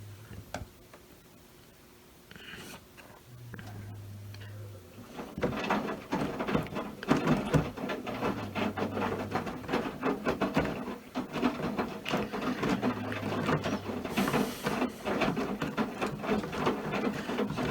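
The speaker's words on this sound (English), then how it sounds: "Maytag Washer is a direct drive machine" A Maytag direct drive washing machine runs a normal cycle with medium-heavy soil clothes, giving a steady mechanical churn and rumble with repeated low motor surges and rhythmic ticking and rubbing, loud and close with no talk.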